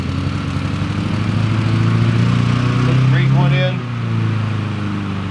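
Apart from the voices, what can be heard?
lawn mower running in the background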